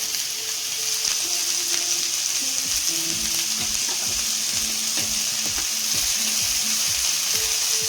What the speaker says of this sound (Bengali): আলু আর ঝিঙেটা আমি একটু কষিয়ে নিয়েছি এবার আমি হলুদ দিয়ে দেবো